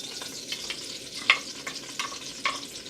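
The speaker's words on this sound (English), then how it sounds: "Y'all hear that sizzle?" Onions sizzling as they fry in a pan for a chicken chili, a soft steady crackle with a few sharper pops from stirring, heard alone and fairly faint.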